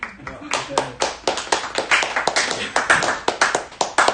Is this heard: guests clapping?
yes